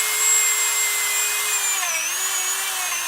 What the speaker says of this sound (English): I love this Dremel, man. So many great uses for this Dremel.